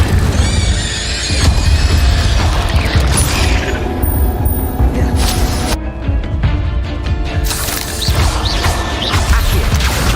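Spell-casting effects in the video game Hogwarts Legacy burst in a rapid, loud barrage of crackling blasts, booms and whooshing magical impacts, one after another for several seconds, with a brief lull midway.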